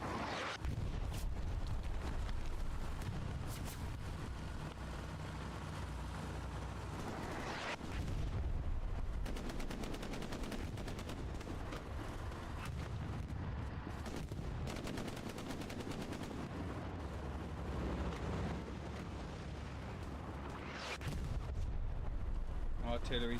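Sustained artillery and gunfire from a Hell Let Loose competitive match, with continuous booms and crackling shots rumbling loud and dense throughout, layered under occasional talk.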